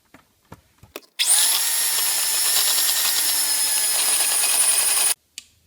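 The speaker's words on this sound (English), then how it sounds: "So now I'm going to use my mixer, and I'm going to kind of go slow a little bit at first" A steady electric hand mixer whirs for about four seconds while beating a thick peanut butter dessert bar mixture, loud and even after a few soft clicks, then cuts off abruptly.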